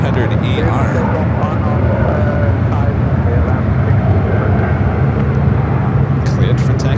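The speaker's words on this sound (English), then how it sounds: "this is KLM flight 606 heading back to Amsterdam with the 16-year-old 777 at 300ER" A 16-year-old KLM Boeing 777-300ER jet airliner roars loud and steady at San Francisco airport, a broad rumbling engine wash holding constant throughout.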